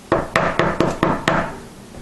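Six sharp, evenly spaced knocks on a table, close and loud, each decaying quickly, with no talk.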